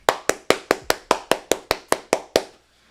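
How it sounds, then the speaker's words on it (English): Eleven sharp hand claps in a steady, even rhythm, close and loud, each ringing briefly before the next, then stopping. "Clap it up to the Tide"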